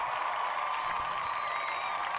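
A studio audience applauds a talk-show guest introduction, producing a steady, dense wash of clapping that holds at an even, fairly distant level throughout without breaks.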